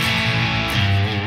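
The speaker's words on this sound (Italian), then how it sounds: "E poi ho aggiunto anche un riverbero." An electric guitar plays through an Orange Guitar Butler two-channel preamp pedal with reverb added, producing a loud, saturated, sustained distorted chord that rings on briefly without any speech.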